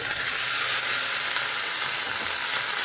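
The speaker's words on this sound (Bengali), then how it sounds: "এই যে ঘি গরম করে নিয়েছি, এবারে আমি একটু পনিরগুলো ভেজে নেব।" Paneer frying in hot ghee, a dense, even sizzle that stays loud and steady with no talking.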